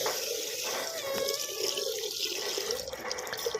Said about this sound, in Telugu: ఫస్ట్ బిందె పట్టుకుని నీళ్ళు వస్తున్నాయి